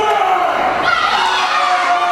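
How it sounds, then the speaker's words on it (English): A wrestling crowd at a UWC event roars and cheers in a steady, dense wash of shouting voices, loud and sustained throughout. "listen to this crowd. They are firmly behind him"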